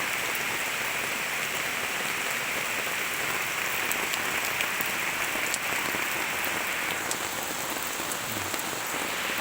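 Heavy rain falls steadily during a storm in a forest, a dense, even hiss of drops striking leaves and surfaces with occasional sharper splashes, no voices present.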